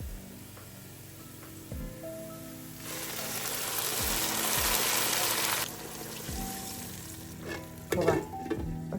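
Water is poured into a pan of frying lamb yakhni pulao, setting off a loud, bursting sizzle that swells for a few seconds and then settles into steady bubbling with stirring.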